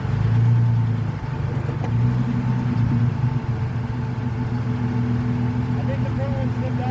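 Jeep Cherokee stuck in mud, its engine droning loudly and rising as gas is applied, under a person talking nearby.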